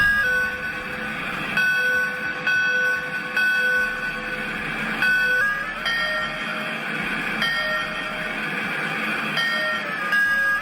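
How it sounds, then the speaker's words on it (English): A Lionel LionChief Hogwarts Express toy train plays electronic whistle toots and ringing bell tones over a rhythmic chuffing loop, repeated steadily at close range with no talking. "your announcement, your bell, your whistle, the chuff sound"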